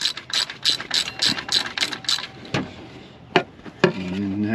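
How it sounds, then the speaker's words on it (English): A ratchet wrench breaks loose an alternator bolt on a C5 Corvette LS engine, giving a close, loud run of quick clicking pawl strokes, then a few separate heavier clacks of tool on metal. "we're gonna reset that wrench. Break that loose."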